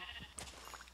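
A single sheep bleats in a blocky survival video game, a short, fairly faint cry over a low steady background hum.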